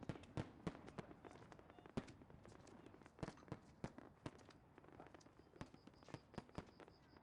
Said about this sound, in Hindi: मैं तो सबके साथ पटाखे जला रही हूँ।